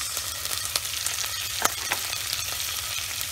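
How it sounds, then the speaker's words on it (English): Onion, green chilli and curry leaves sizzle in a hot pan, a steady crackling fry broken by a few scraping stirs, close and moderately loud with no talking. "Now add big onion, then green chilli, then curry leaves."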